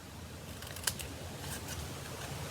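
Scissors trimming paper at a crafting table, a few faint, quick snips with one sharp cut standing out over a soft background hiss.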